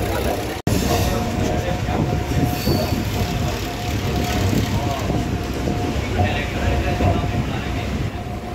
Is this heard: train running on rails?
yes